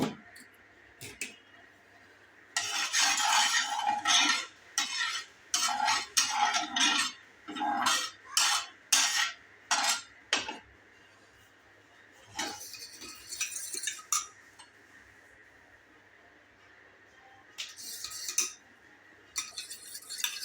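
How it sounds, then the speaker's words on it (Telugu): A bread omelette mixture stirred in a bowl with a utensil, bursts of scraping and clinking clatter coming in uneven runs with quiet pauses, close and fairly loud, no talking. "ఈ రెండు బాగా కలిసేంత వరకు ఇగో ఇలా తిప్పుతూ ఉండాలి"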